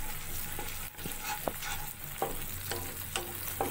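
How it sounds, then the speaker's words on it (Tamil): Tomato sauce is stirred into idli manchurian frying in a pan, a soft steady sizzle broken by repeated scraping strokes of the spoon, close and alone. "இப்போ டொமேட்டோ சாஸ் ஊத்திட்டோம் நல்லா கலந்து விட்டுக்கலாம்"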